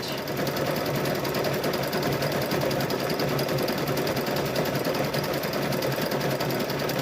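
A sewing machine stitches a quilted Halloween gnome wizard tote bag, running loud and close in one continuous, rapid mechanical whir that stays even throughout, with no talking.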